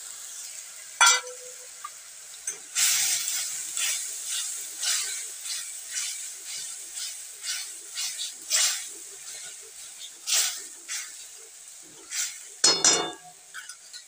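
Blended tomato paste sizzles and fries in a little oil while being stirred, with steady hiss and repeated scraping strokes, close and fairly loud, plus a brief louder burst near the end.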